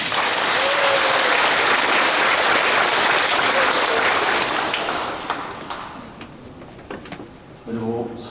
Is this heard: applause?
yes